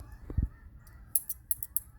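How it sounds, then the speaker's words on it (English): Geese honking outdoors, a few short calls at a distance with rustling and faint background noise. "I'm outside and the geese are, I don't know what they're doing"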